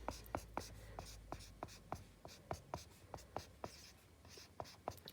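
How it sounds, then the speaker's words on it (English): A pen writes SOHCAHTOA by hand on paper in a trigonometry lesson, making a rhythmic series of short, crisp scratching strokes at close range, fairly quiet and steady throughout. "I write out SOHCAHTOA."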